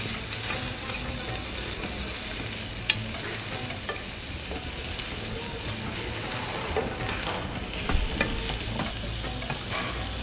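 Mushrooms fry in a pan with a steady, close sizzle that runs unbroken throughout, broken by a few soft stirring scrapes and light clicks.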